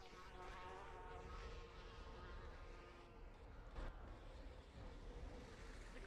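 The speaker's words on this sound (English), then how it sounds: "The bees are coming for me." Insect-like buzzing from a swarm of bees in a video game, a steady droning hum that holds at moderate level throughout with no talking.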